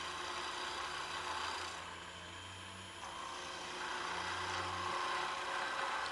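A skew chisel cuts wood spinning on a lathe with a steady, close shaving and rasping whir under a low motor hum, its texture shifting slightly as the cut moves along the workpiece.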